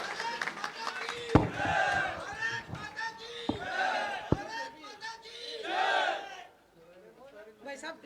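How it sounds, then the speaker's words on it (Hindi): A crowd at a farmers' rally in Kolsiya, Nawalgarh, lets out loud, sustained shouts and cheers in swelling waves, with a few sharp claps standing out, before quieting near the end. "जोरदार ताली बजाओ और हाथ खड़े कर लो"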